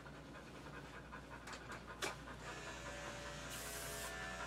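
A Springer Spaniel panting steadily during grooming, a close, rapid, rhythmic breathy huffing over a constant background hiss, with a few sharper clicks.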